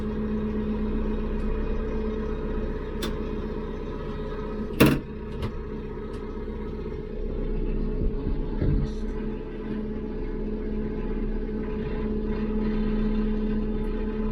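A tractor engine idles and hums steadily while its gravel bucket scoops weeds from a pond, with a sharp metallic clank near the middle and a few softer knocks and scrapes after it.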